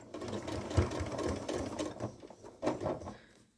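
Short bursts of a sewing machine back stitching nylon webbing on a bucket caddy, a fairly quiet, uneven mechanical whirr with small surges and a brief louder spurt near the end.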